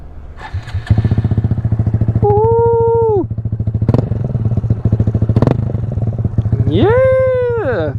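Small Honda Grom motorcycle engine cranks, catches and idles with a steady, close, thumping rhythm. Brief clanks and a couple of sharp throttle blips rise and fall over the running engine.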